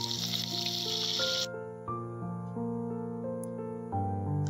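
Onion dropped into hot mustard oil in a kadai sizzles with a bright hiss for about a second and a half, then cuts off as a melodic tune takes over.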